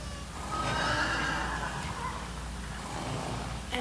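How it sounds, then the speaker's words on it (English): Horses neigh loudly in a drawn-out whinny near the start, then a breathy snort and faint hoof and rustling sounds follow over a steady low rumble, with no talking. "Those are horses, Gabriel."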